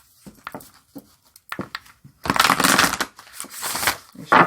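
Oracle cards being shuffled: a few short riffling bursts, then a longer, louder run of crisp papery flutter, close to the mic.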